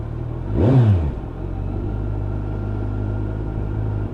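Kawasaki GTR1400 motorcycle engine while riding, giving a loud rising and falling rev near the start, then a steady close rumble with wind throughout.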